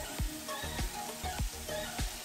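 Chicken pieces fry in a pan of cooked-down tomato masala, a soft steady sizzle broken by regular scraping stirs about every third of a second, fairly quiet and close.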